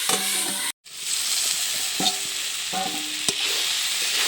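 Boiled potatoes are stirred and fried in a pan, with a steady close sizzle broken by several spatula scrapes and knocks against the pan and one brief gap near the start.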